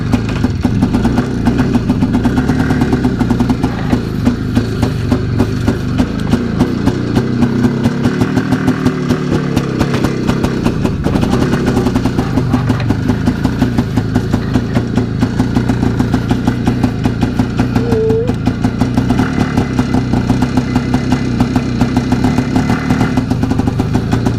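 An IZh Planeta-3 motorcycle engine runs after long storage, a steady close two-stroke idle with an even, rapid putter throughout.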